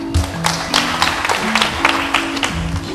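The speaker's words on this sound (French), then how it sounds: "Merci de l'applaudir." Audience applause, a short round of scattered clapping with distinct individual claps, heard over a sustained low musical drone.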